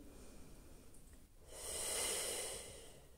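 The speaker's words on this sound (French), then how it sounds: "On respire une dernière fois ici." A person breathing during a pilates stretch, a soft quick intake followed by a long, close, airy exhale that rises and fades, with no talking.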